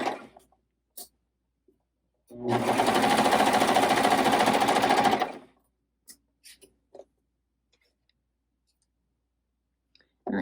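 A coverstitch machine hems fabric in one steady, buzzing run of about three seconds, framed by scattered clicks and handling taps.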